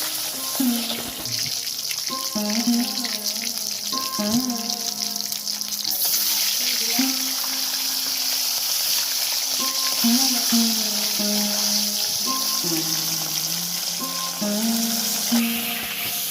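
Bhola fish frying in hot oil gives a continuous crackling sizzle, heard steadily beneath louder melodic background music.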